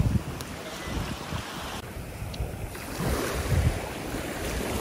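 Sea waves breaking where the desert meets the sea in Qatar, a steady rushing surf mixed with wind buffeting the microphone, loud and continuous with no talking.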